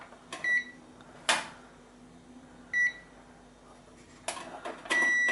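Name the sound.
multimeter continuity buzzer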